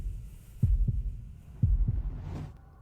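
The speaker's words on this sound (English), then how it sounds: "Heartbeats." A heartbeat sound effect beats in two deep, muffled lub-dub pairs, close and steady, before a soft rising whoosh closes it out.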